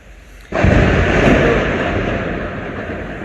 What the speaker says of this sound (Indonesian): Maaf, ada geledek.